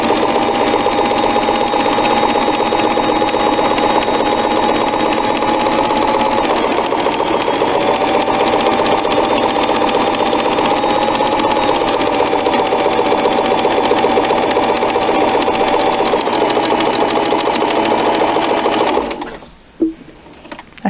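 A vintage Kenmore 158.1802 sewing machine stitches buttonholes in a steady, close, loud mechanical whir with rapid needle clatter, running continuously for most of the clip before stopping abruptly near the end.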